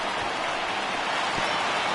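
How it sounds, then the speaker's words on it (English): Steady rain pouring down on a baseball field in a baseball video game, a constant, even hiss of falling drops with no breaks, fairly loud and alone. "I don't know how much more rain this field can take"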